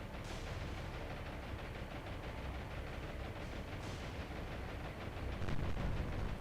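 Naval 5-inch guns in the War on the Sea game fire in a dense, continuous barrage of rapid overlapping blasts that swells slightly near the end, with no voices.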